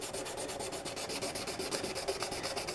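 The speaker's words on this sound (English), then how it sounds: "So I just been taking a piece of sandpaper and" A hand-held piece of sandpaper rubs over a metal marine clip to smooth a ground-down, scratchy spot, making quick, regular back-and-forth scraping strokes, close and fairly loud, with no voices.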